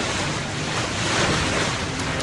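Storm surge waves pound the coast of southwestern Long Island during a flooding tide, a loud, unbroken roar of surf mixed with heavy wind rumble and no voices.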